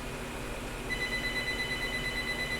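A telephone rings during a Subnautica game stream, a faint steady electronic ringing tone under low background noise, with no talking.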